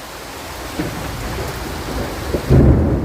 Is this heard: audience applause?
no